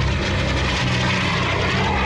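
An aircraft from the James Bond film Octopussy flies past at the La Ferté-Alais air show with a loud, continuous engine roar and propeller drone that holds steady and close.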